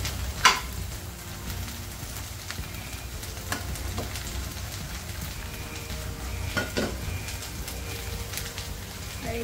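Okra frying in a pan as a home-cooked bhaji, a steady crackling sizzle throughout with a few sharp clatters of stirring, moderately close and with no talk over it.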